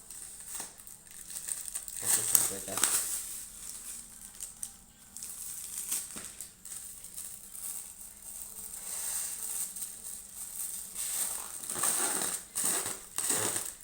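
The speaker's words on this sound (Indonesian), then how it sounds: "Kemudian dari plastik ini saya tekan." A plastic object pressed and squeezed by hand in a science demonstration, giving continuous soft crinkling and crackling with a few sharper crunches, close to the microphone, with no talking.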